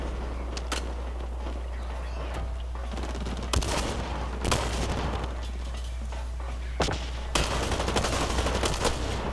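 Shotgun blasts in the shooter game Blacklight: Retribution: several sharp, loud reports spaced irregularly over a steady low hum and busy game noise, with no talking.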